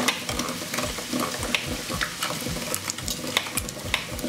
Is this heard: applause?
no